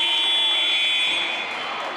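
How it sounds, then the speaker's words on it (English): A loud, sustained electronic buzzer sounds alone to end a schools netball league match, one continuous tone holding for about two seconds and tapering slightly near the end. "And there goes the buzzer."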